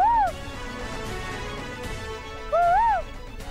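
A woman imitates bird calls with her voice, two rising and falling whistled warbles near the start and near the end, set among room tone.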